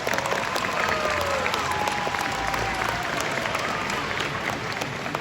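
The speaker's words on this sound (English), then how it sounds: "Let's give our audience volunteers a round of applause." A large audience at a SeaWorld killer whale show applauds in a dense, sustained roar of clapping throughout, loud and continuous with faint cheering mixed in.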